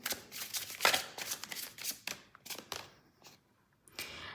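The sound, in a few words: shuffling tarot cards from second deck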